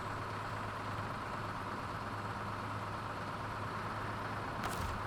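A pickup truck engine in the video game SnowRunner idles with a steady low rumble and constant hum, unchanging throughout, with a brief faint click near the end.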